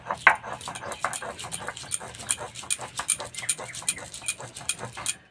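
Two green chillies and a piece of ginger are ground without water on a stone slab, making close, rhythmic scraping and rubbing strokes in a quick, regular back-and-forth.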